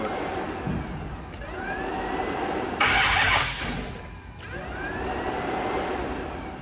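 Hellcat engine cranking without catching: a steady whirring starter grind that runs through the whole stretch, with a louder burst partway through. No voices.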